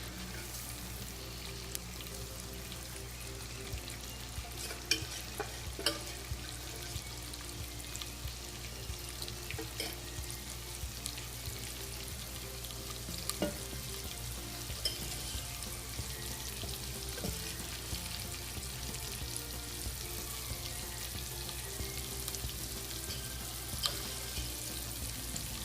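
Quail eggs frying in masala in a pan give a steady, even sizzle and crackle that runs without a break, with faint clinks now and then and no voices.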